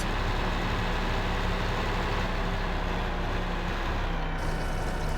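Truck engine in Farming Simulator 15, a steady low rumbling drone with a constant dense hum, holding loud and unchanging throughout.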